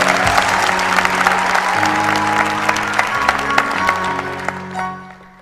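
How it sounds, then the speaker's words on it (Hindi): Studio audience applause for a guest on a PTV quiz show, with dense, loud clapping over sustained background music, fading out toward the end. "ग्रामी के लिए भरपूर तालियां।"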